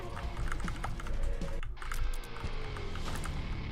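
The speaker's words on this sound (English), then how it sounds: "I wonder if my keyboard sounds are coming through." Computer keyboard typing during a Binding of Isaac gaming session, rapid dense clacking keystrokes throughout, fairly quiet and steady with no talking.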